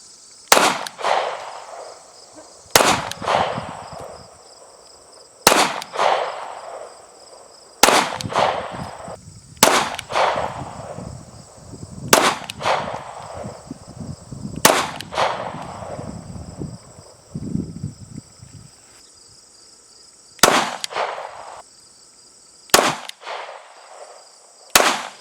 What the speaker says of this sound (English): Shot a total of 10 rounds through this.